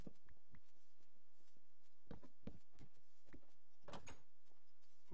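Double doors in a video game open with a few short wooden clunks and creaks, scattered sharp knocks spaced apart over a quiet background, fairly close.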